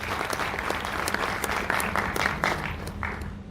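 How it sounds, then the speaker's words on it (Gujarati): An audience at a Gujarati comedy and poetry evening applauds a performer named Manharbhai, with dense, steady clapping from a sizable crowd that stays even and loud throughout. "એકવાર જોરદાર તાળીઓ એમના માટે."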